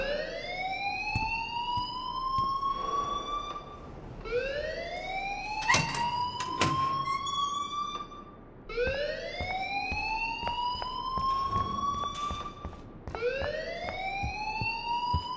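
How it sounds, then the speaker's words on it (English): A fire alarm in the video game Life Is Strange wails loudly and steadily in repeated rising sweeps, with a few sharp clanks and knocks between cycles and no talk. "please turn off that alarm since that's your job"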